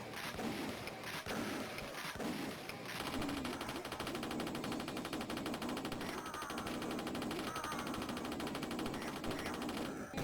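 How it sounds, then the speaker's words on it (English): Continuous gunfire from a minimalist first-person shooter game rattles on without pause for several seconds, a dense fast stream of shots that stays fairly faint and even throughout. "my best bet is just to unleash bullets on him and just keep firing"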